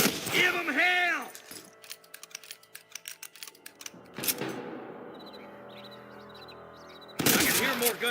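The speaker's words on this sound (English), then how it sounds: "I can hear more gunshots." Rapid bursts of gunfire in the Western video game Red Dead Redemption, a quick run of sharp cracks mixed with mechanical clicks, set between loud voiced outbursts and a stretch of quieter ambience.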